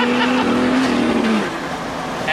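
A stock Ford Falcon FPV performance car accelerating hard in second gear, its engine roaring loud and close with a rising then falling pitch, a deep continuous rumble filling the whole moment.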